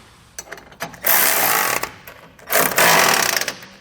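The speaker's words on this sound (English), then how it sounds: "we'll come back with a 19mm socket. We'll just go ahead down and snug all of our bolts" A ratchet wrench with a 19mm socket snugs the bolts of a Curt front-mount trailer hitch on a 2014 Ford F-250. It gives two loud, sustained bursts of rapid clicking, up close, separated by short pauses.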